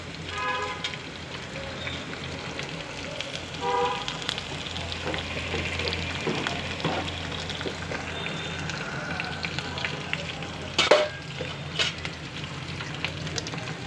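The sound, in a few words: green chillies and curry leaves frying in oil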